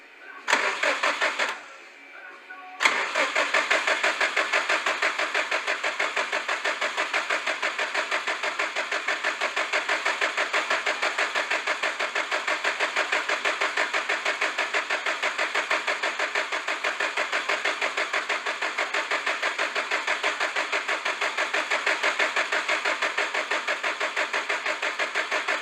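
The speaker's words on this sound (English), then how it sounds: "Crank the vehicle over for a minimum of 30 seconds." The engine of a Subaru WRX STI, its crank sensor unplugged, cranks over on the starter without firing, giving a fast, steady, rhythmic churning that runs for over twenty seconds after a brief pause near the start.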